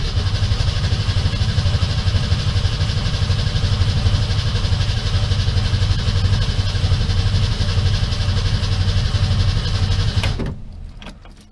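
A 1966 Ford Mustang engine cranking steadily without catching, a continuous droning starter whir held close and loud for about ten seconds before it cuts off abruptly.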